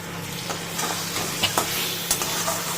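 Fish curry frying in oil while being stirred, a dense continuous sizzle with a few soft scrapes of the spoon.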